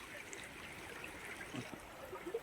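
A small cold-water stream in a Konkan village trickles and gurgles faintly and steadily, soft and close with no voices.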